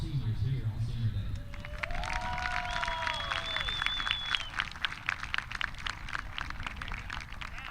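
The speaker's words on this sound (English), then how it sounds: "Now let's give one last round of applause to all of our seniors here on Senior Day." Crowd applause and clapping for seniors on Senior Day at a college softball game, North Greenville vs. Limestone, outdoors. Steady clapping runs throughout, with whistle-like tones and a voice over the early part.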